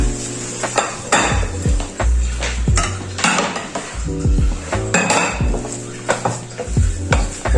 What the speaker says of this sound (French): Alors, pour la farce, on va tout mélanger.